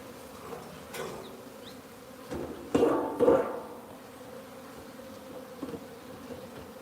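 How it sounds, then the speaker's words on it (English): Honey bees buzzing around a hive during beekeeping work, faint and intermittent buzzing with a few louder close passes, set against quiet outdoor background. "Getting all the house bees I can off."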